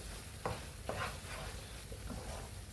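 Beetroot masala frying in oil in a pan, with a quiet continuous sizzle broken by a few sharp scrapes of a spoon stirring it, heard close up.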